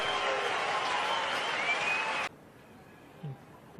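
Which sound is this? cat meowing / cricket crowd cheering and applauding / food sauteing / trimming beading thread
cricket crowd cheering and applauding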